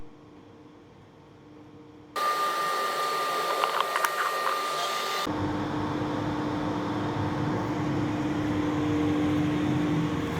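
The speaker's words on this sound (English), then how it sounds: "This is my lathe." A lathe friction-welding metal rods runs with a steady loud whir and broadband roar, beginning abruptly after a quiet start, with brief scraping crackles and a sustained mechanical hum.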